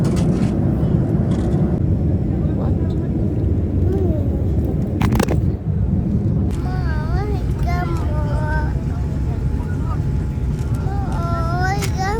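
A constant low engine roar fills an aircraft cabin on approach to landing, loud and unbroken, while voices talk over it.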